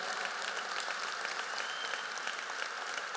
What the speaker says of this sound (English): Let's have a round of applause for Nicole.